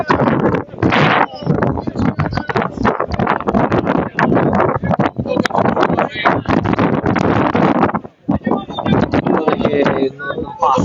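Strong gusts buffet the microphone at an Eccellenza Sicilia football match between Castelbuono and Geraci, a loud, continuous roaring rumble that dips only briefly, with a commentator talking throughout.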